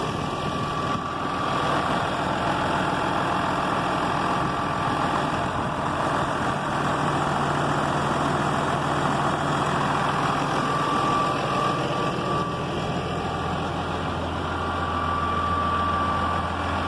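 A 2004 Renault Ares 656 RZ 130-horsepower tractor's heavy diesel engine idles steadily, a continuous low rumble with a constant mechanical hum and no change in pace throughout.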